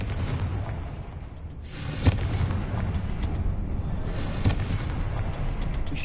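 A Confringo fire spell in the video game Hogwarts Legacy sets off two deep booming explosions roughly two seconds apart over a constant low rumble of game ambience, with no voices.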